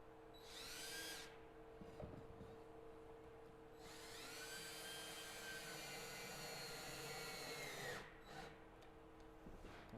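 A power drill drives screws into a wooden birdhouse roof, with two loud whining bursts at close range, a short one and then a longer one, each rising in pitch as the screw seats, separated by quiet handling noise.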